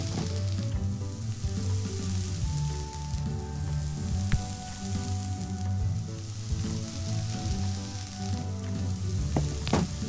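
Bread sizzles and fries steadily in the video game I am Bread, a dense, continuous crackling hiss with faint clicks, heard alone without talk.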